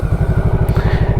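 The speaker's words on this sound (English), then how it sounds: "engine starts" A motorcycle engine running after start-up, a loud, steady, fast low thumping idle close by, with one brief higher tick partway through.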